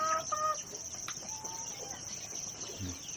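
Older laying hens cluck softly and intermittently at some distance, faint calls over a steady high insect-like hiss and low background rumble.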